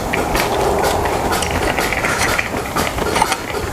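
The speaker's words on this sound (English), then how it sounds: "this is going to be a pipe that I want to be using on the wrench" A wrench fitted with a pipe extension works on a tight transmission plug of a BMW 750i-series car, giving steady ratcheting and scraping mechanical noise close to the microphone throughout.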